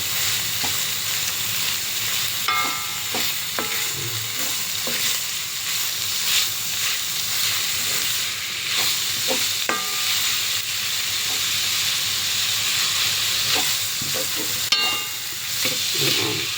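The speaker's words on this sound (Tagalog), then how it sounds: "Lagay natin itong beef para maluto." Ground beef for spaghetti bolognese fries in a hot pan with a steady loud sizzle, and a utensil scrapes and stirs the meat at intervals. Nobody speaks.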